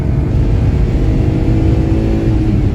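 A car accelerates hard through its gears during a top speed test, its engine droning loud and steady close by as it pulls with the revs held high.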